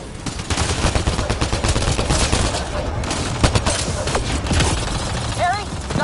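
Sustained rapid automatic gunfire in the sci-fi shooter Mass Effect Andromeda, loud and continuous bursts of shots with mechanical clatter, voices of characters shouting over the battle.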